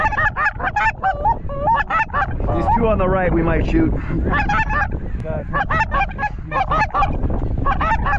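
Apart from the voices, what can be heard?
geese honking during Kansas goose hunt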